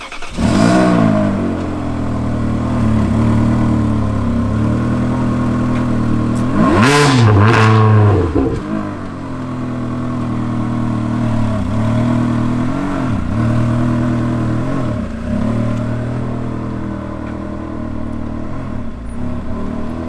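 A Ferrari 360 Challenge Stradale engine pulls hard, with a loud, rising rev peaking around the middle, then lighter throttle blips and gear changes as the car keeps going, heard close from inside with no talking.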